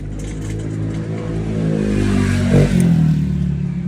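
The motor of an automatic coil winding machine runs with a steady mid-pitched hum and slight clatter, close and even, with one brief louder bump near the end.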